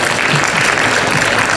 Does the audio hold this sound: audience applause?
yes